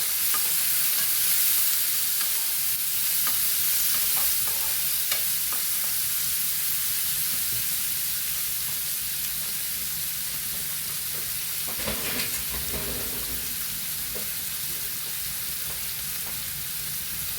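Large onions frying in a pan until brownish for an Andhra Rayalaseema-style bitter gourd tomato curry, a steady, loud sizzling hiss throughout with occasional stirring scrapes, no talking.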